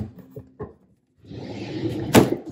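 A drawer in an art supply organizer, holding soft bristle brushes, slides on its runners with a scraping rumble, then ends in a sharp knock as it closes, preceded by a few light taps.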